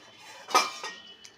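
A lid set onto a cooking pot of simmering potato and bean curry with rui fish, giving one sharp metallic clink followed by a softer second clatter.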